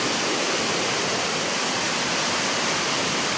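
Rainwater pours off a roof into a flooded lane, a dense, continuous rushing wash close by with no break.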